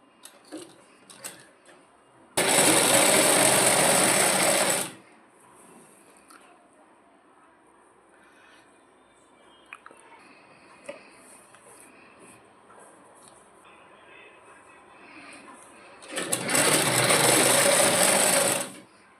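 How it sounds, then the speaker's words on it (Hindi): A sewing machine runs in two loud bursts of rapid stitching on a baby frock, with a quiet stretch of faint handling and clicks between the bursts. "इस तरीके से हम सिलाई चलाएंगे अब इस पे।"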